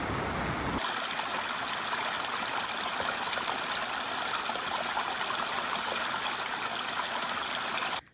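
Steady rushing river water flows loudly and continuously, a dense broadband roar that starts abruptly and fills the whole stretch.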